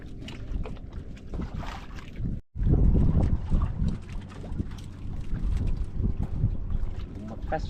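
Strong wind buffets a microphone on a small fishing boat at sea, a rough roaring rush with a brief dropout, broken water and faint voices underneath.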